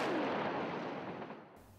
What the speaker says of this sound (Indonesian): 300 kg amonium nitrat bisa membuat ledakan sebesar ini.